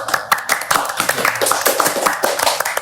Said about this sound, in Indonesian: Jadi kita tepuk tangan dulu semuanya